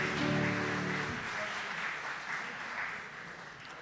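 Audience applause at a startup pitching competition, many hands clapping in a steady crowd wash that fades slightly toward the end, with a brief musical sting at the start.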